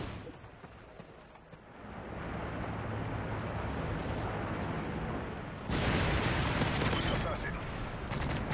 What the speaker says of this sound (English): Strafe run incoming.